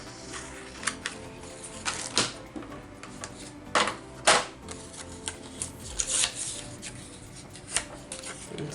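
A paper cutting machine cutting shapes from paper with a small book plate, giving soft close clicks and short whirring passes, quiet and with no talking.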